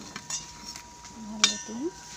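Metal utensils clink and scrape against dishes while a tiffin box is quickly filled with fresh bean bhaji and packed rice in a home kitchen; several sharp chinks and a short rising scrape, close up.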